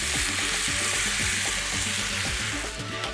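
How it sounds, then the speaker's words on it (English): Paella rice simmering in dry white wine and vegetable stock sizzles steadily as it is stirred, with a continuous close frying hiss and regular scraping strokes of the spoon. "Give the rice a stir and let it cook."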